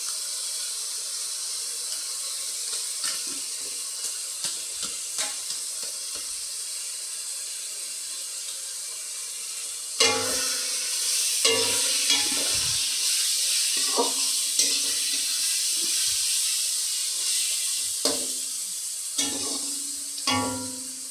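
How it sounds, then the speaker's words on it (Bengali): Spices with black pepper fry in a pan for a chicken dish, starting as a quieter sizzle with light taps, then swelling louder with repeated spoon scrapes and clatters while stirring continues. "মশলাটা আমার ভাজা হয়ে গেছে।"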